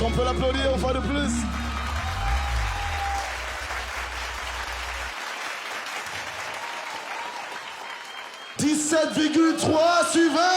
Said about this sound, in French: Est-ce qu'on peut l'applaudir une fois de plus?